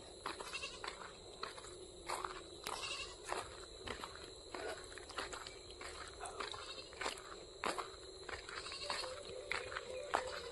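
Goats bleating nearby among rustling and shuffling hooves, with repeated short cries over a steady outdoor hum.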